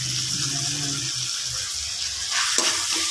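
Okra from a rooftop garden going into a hot pan, giving a steady hiss and sizzle of frying with watery crackle that brightens near the end, close up and with no talk.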